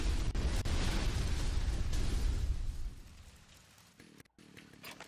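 Dynamite strapped to a zombie blows up in the video game Lollipop Chainsaw: a loud, close, deep booming blast that rumbles for a few seconds, then fades to quieter game sounds.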